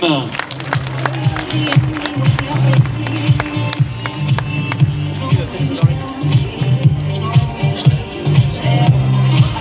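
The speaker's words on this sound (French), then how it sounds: "sous vos applaudissements, mesdames, messieurs, l'équipe Astana Pro Team" A crowd at the Paris-Roubaix 2019 team presentation applauds the Astana Pro Team cycling squad, with loud clapping and cheers under booming music and an announcer's amplified voice.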